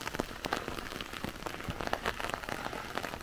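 Rain falls steadily on a stone-walled mountain village in the Kyushu highlands of Miyazaki, a dense, even patter of drops on surfaces nearby, continuous and unbroken.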